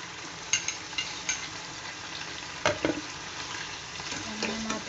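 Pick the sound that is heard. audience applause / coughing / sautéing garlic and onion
sautéing garlic and onion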